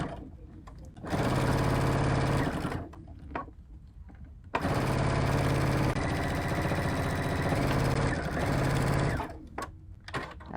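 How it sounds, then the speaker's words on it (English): A sewing machine top stitches a candy zipper pouch in two loud, close bursts of rapid, even stitching, separated by a short pause, with a brief stop just before the end. "and now I'm going to top stitch"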